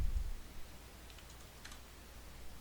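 A computer keyboard is typed on lightly, a few soft, sparse keystroke clicks faint against a quiet, low background hum.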